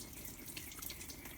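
Light, steady water spray hissing through the fins of a window or wall air conditioner during cleaning, faint and continuous with no talking.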